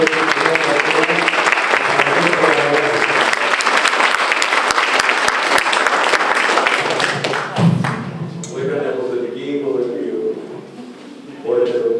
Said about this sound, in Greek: το πρώτο βήμα που θα κάνουμε είναι να τον χειροκροτήσουμε θερμά